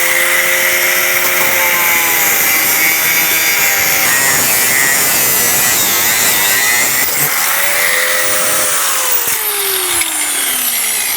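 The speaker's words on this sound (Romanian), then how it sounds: "să-i tai și lateralul în momentul ăsta" Saw cutting through a side branch of a young fruit tree grown on a trellis, loud and close with continuous rasping strokes and a whining tone that rises and falls, heard alone.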